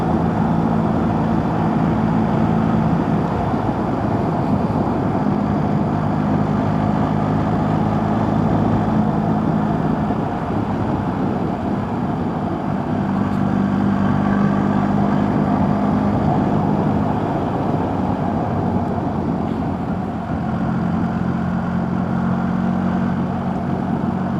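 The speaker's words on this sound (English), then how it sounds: "a lot of people don't like this BMW Boxer engine" BMW Boxer motorcycle engine running steadily on a countryside ride, a continuous loud drone with a low throbbing hum that holds level throughout, with no voices.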